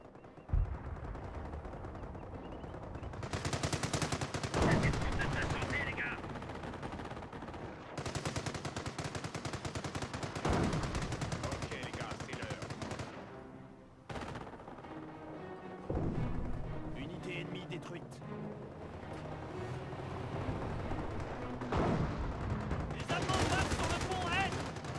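Dense gunfire fills a Company of Heroes battle in the counterattack at Carentan, with bursts of machine-gun fire, single shots and heavy explosions, loud and continuous, and French-speaking soldiers shouting now and then.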